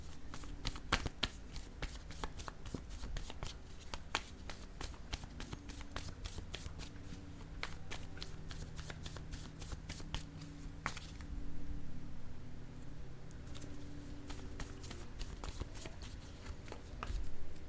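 A deck of cards being shuffled for a card reading, with repeated crisp riffling and flicking bursts that run steadily throughout, close and fairly loud, with no talk.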